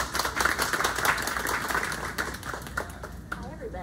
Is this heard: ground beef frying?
no